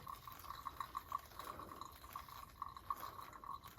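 Water poured from a kettle over coffee grounds makes a thin, steady trickle with light dripping, soft and close, with no voices.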